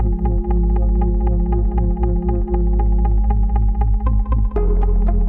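An Elektron Digitone loops its melodic elements on a first chord: a loud, steady synth pad with a deep sustained bass, repeating plucked notes in an even pulse, and a new chord entering near the end.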